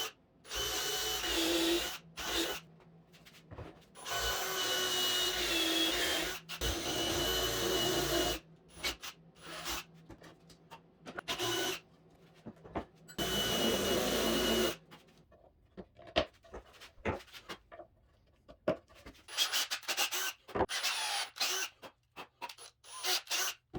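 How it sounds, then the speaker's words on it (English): A 1/2-inch tap cuts threads into bolt holes in a table saw bowl-making jig, heard as bursts of whirring, ratcheting tool noise broken by pauses and small clicks and knocks, with no voices. "So you see I just ran my 1/2-inch tap in both sides here, only a little bit of the way."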